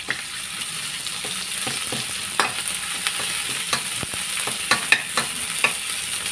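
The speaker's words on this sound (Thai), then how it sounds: "เอาพริกแกงลงไปผัดค่ะ ผัดพริกแกงให้หอมจ้ะ" Curry paste sizzles and fries in hot oil in a wok, with scattered pops and the scrape of stirring, steady and close.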